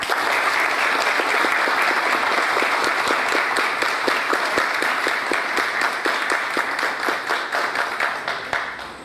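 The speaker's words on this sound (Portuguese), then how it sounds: "Vamos aplaudi-lo." Sustained audience applause at a formal heraldry society opening ceremony, dense steady clapping from a large seated crowd, loud and continuous, tapering slightly toward the end.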